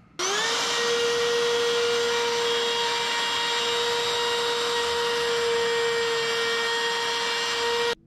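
Wood router with a shaping bit spins up and runs on a wooden chain link piece, a loud sustained high-pitched whine with a sharp start and an abrupt stop near the end.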